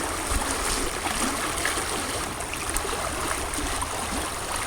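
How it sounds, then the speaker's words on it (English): River water rushing and gurgling over rocks, a continuous broad wash of flowing sound, close and fairly steady with small splashes, no voices. "The water goes down below like that and some of them rocks that are sticking up."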